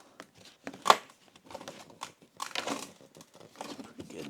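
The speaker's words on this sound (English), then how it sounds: "Just using a razor blade to cut this." A razor blade cuts through dense KILMAT sound deadener mat for a Yamaha Rmax, giving scattered crinkling, tearing bursts at close range, with sharper scrapes now and then.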